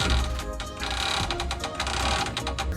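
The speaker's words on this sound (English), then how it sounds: "Tightening it down is super easy with the socket wrench and the wobbles" Rapid, steady mechanical clicking of a socket wrench ratcheting while suspension bolts are tightened on a Ford Ranger during a leveling spring install, close and continuous throughout with no talking.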